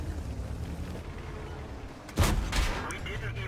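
Tank cannon shot striking an IS-3 heavy tank in the World of Tanks video game, a single sudden booming impact over a continuous rumbling battle background, with a faint voice talking underneath.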